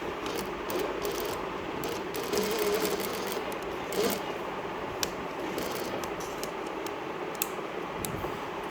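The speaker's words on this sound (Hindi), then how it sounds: "अब हम इसको मशीन के साथ सिलाई लगा लेंगे इसके किनारों पे" A sewing machine stitches along the edges of fabric pieces with a continuous, close mechanical whir and faint ticking clicks, running steadily throughout.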